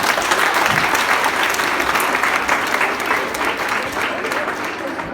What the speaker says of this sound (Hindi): जबरदस्त तालियां होनी चाहिए